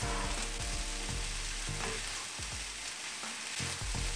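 Ratatouille and vegetables tossed in a hot pan, a loud continuous sizzle and frying hiss with scraping stir strokes, close up and with no talking.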